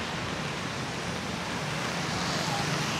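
Strong typhoon wind from Super Typhoon Uwan (Fung-wong) under Signal number 3 roars as a continuous loud broadband rush, steady and unbroken, with no speech heard.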